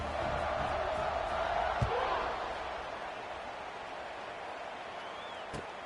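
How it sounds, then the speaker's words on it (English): Stadium crowd in the EA NCAA 26 college football video game, a steady broadband roar of many voices that swells early then settles into a constant buzz, with a couple of brief thumps. "this crowd is buzzing after that last score"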